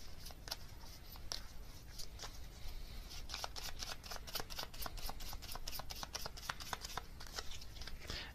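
Tarot cards riffle and shuffle close by in a quiet room, a long run of soft, crisp flicking and slapping that quickens in the middle, with no talk.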